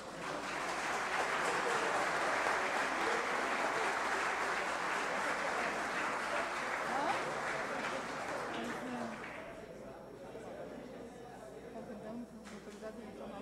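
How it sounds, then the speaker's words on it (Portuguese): Crowd applause at a ceremony honoring deputies and a governor, dense steady clapping filling the room for about nine seconds before thinning out into scattered claps and room murmur. "Os nossos deputados e o nosso governador merecem agora uma salva de palmas."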